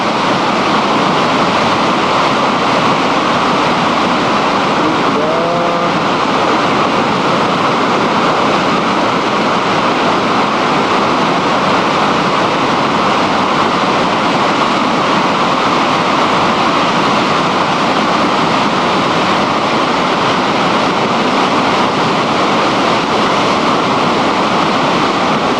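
Flood water on Matilla Creek thunders below the dam as a continuous, loud broadband roar of rushing whitewater, steady for the whole stretch.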